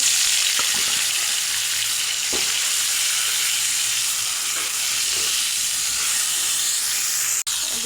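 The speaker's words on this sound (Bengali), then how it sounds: "তেল গরম হয়ে গেছে, এখন হলুদ লবণ মাখা মাছের মাথা দিয়ে দেব।" Steady, loud sizzling of a turmeric- and salt-rubbed rohu fish head frying in hot mustard oil, a continuous crackling hiss throughout with a sharp clink near the end.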